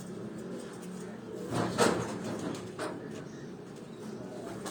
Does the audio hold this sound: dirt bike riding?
no